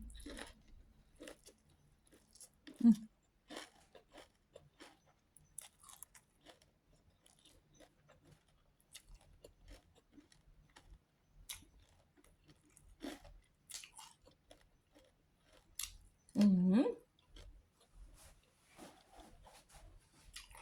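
Someone chewing crispy fried tubtim fish miang, wet crunches and bites at irregular intervals with quiet gaps between them, close to the mouth and fairly faint, with a couple of louder crunchy moments.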